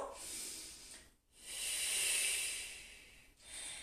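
A slow, deep breath taken while holding a yoga twist: a long airy inhale, a short pause, then a longer whooshing exhale close to the microphone, with no voice over it.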